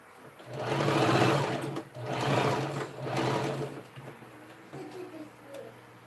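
A sewing machine stitches a bag in three loud, close bursts of rapid whirring, each a second or so long with short pauses between, then fainter clicks and handling at the end.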